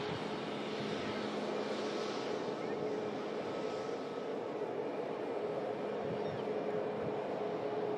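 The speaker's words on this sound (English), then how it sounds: "Next to arrive is a Jet 2 Boeing 737" A Jet2 Boeing 737 airliner arriving to land at Manchester gives off a constant broad engine roar and rushing whine that holds steady at moderate distance, with talk over it.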